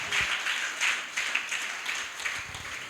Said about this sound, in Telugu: చప్పట్లు కొట్టి దేవుని నామానికి కనపరుద్దాం.